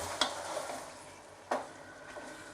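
Mutton yukhni pulao being stirred and sautéed in a pot, with two or three distinct scraping spoon strokes over a faint, steady sizzle, close by.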